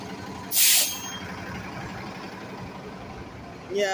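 A city bus lets out one loud hiss of air brakes near the start, with engine rumble running steadily underneath and another brief hiss at the end.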